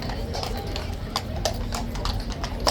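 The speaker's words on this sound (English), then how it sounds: "this is the horse that was here yesterday" Horse hooves clip-clop in a steady, moderately close rhythm at a royal guard change ceremony, with crowd chatter and voices running underneath.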